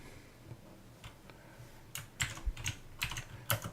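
Typing on a computer keyboard, a few sparse taps and then a quicker burst of crisp clicking keystrokes, close and fairly quiet, with no talk.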